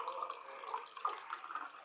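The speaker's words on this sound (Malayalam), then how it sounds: "ഇതൊന്ന് അരിച്ചൊഴിക്കാം" Homemade healthy juice sweetened with honey is strained and poured into a container, a close, steady liquid trickle with small splashing drips running throughout.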